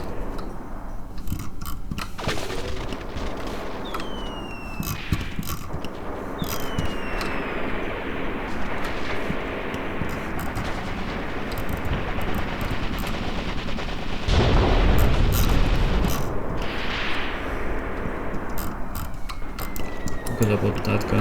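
Artillery and gunfire sound through a battle in the war game Graviteam Tactics, with scattered shots and rumbling blasts throughout and one heavier, louder explosion about two-thirds of the way in. Faint voices come and go.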